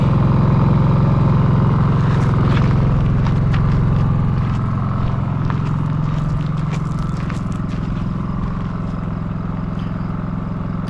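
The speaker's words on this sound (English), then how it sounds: "you can see it's a pretty quiet generator" A Champion 4500 dual fuel generator runs in eco mode, a loud, steady, low engine hum with a continuous mechanical drone and light rattling, heard up close.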